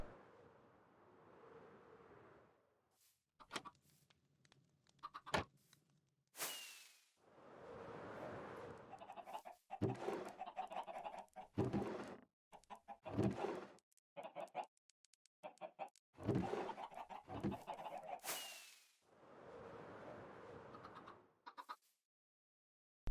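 Chickens in a Minecraft chicken farm with a fox pen and launcher, clucking in repeated short bursts of game bird calls, moderately close with pauses between, no talking.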